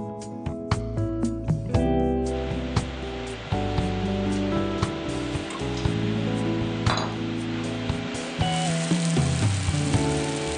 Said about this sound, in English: It is simply grilled, seasoned only with rock salt and pepper.